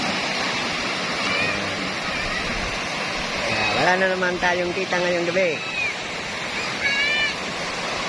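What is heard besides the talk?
large ocean waves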